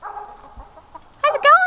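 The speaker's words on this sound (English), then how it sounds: "So we have three flocks of chickens right now." Chickens in a homestead run make low, drawn-out clucks that turn into a sharper, louder squawking call near the end; the birds sound close and there is no talking.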